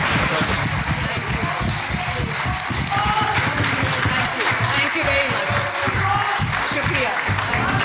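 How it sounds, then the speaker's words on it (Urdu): A crowd at a political gathering in Lahore claps for Maryam Nawaz, with dense, continuous applause and a voice talking over it. "تالیاں"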